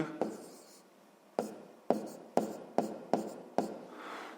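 Pen writing fractions by hand on paper, a series of short scratchy strokes and taps in uneven bursts, close and quiet, with a voice speaking faintly in the background.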